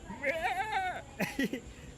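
A male goat bleats in a wavering, drawn-out call during a Bakra Eid comedy sketch, followed by short bursts of nearby voices.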